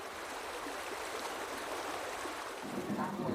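A local river flowing steadily where tree bark fibre is washed, a constant close hiss and rush of moving water at low volume with a slight rise near the end.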